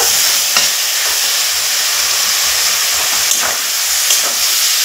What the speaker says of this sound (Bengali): এখন আমি একটু নাড়াচাড়া করে নেব